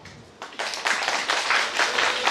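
An audience at a company awards event bursts into applause, with scattered claps swelling quickly into sustained, fairly loud clapping from many hands.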